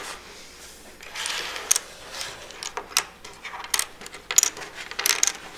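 Dominoes clack and click as they are shuffled and turned face down on a table, a close series of sharp irregular taps over a soft sliding rustle, with no speech.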